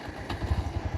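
A 2026 Bajaj Pulsar NS125 motorcycle engine idles close by, with a quick, steady low throb of firing pulses and a light mechanical clatter.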